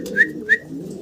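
A fancy pigeon, a female, calls twice close by with short rising whistle-like notes, evenly spaced, over a low background murmur.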